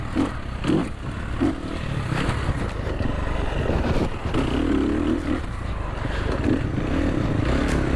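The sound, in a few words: Sherco 300SEF motorcycle riding on trail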